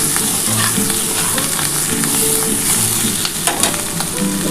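Ingredients frying in a pan for a spicy small-fish curry with spring onion and potato, a steady close sizzle with occasional stirring scrapes; no speech.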